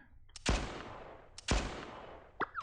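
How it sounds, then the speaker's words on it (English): Two sharp gunshots in the video game Blue Archive about a second apart, each a loud crack with a quick decaying tail, followed by a brief electronic blip. "Gunfire?"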